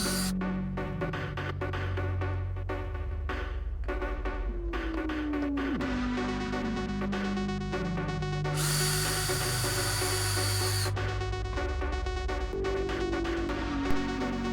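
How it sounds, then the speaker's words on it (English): A bandsaw cutting slots into wooden sideboards for an arcade cabinet, its steady motor whine and buzzing blade running continuously, with pitch sweeps as the cut loads and eases and a brighter, harsher stretch midway. "I brought those sideboards over to my bandsaw to cut the little slots in it that the brackets are going to slide into"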